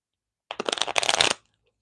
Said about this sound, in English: We're going to do a little baby shuffle.